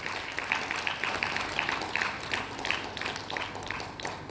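An audience gives a round of applause for the compere at a World Suicide Prevention Day event in Mangalore, a fairly faint, steady patter of clapping with rhythmic individual claps standing out.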